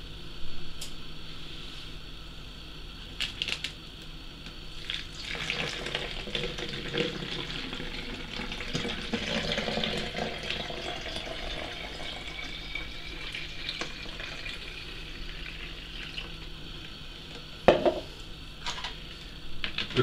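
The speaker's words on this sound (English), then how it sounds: "Now you need to add 500ml of boiled and cooled water." Boiled and cooled water is poured into a bottle in a quiet room, a soft gurgling trickle that swells and fades over several seconds with a few small knocks and clicks, and no speech.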